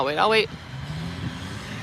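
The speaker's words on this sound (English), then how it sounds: "Hang on. Loud truck." Loud truck passing on a road in Lancaster County Amish country, a low engine rumble rolling by under and after a brief burst of speech.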